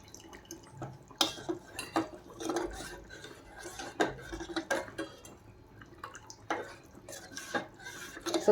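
A spoon stirs rice kheer in a metal pot over a low flame, scraping and tapping against the sides in an uneven, unhurried rhythm of soft clinks and wet swishes, close and fairly quiet.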